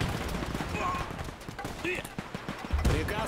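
Machine-gun fire in the World War II strategy game Men of War II crackles in rapid bursts under a busy battle soundscape, with scattered impacts and a heavier thump near the end.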